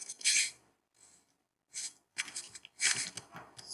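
Light keystrokes on a computer keyboard come in short irregular bursts of quick taps with brief pauses between, close and fairly quiet, with no talking over them.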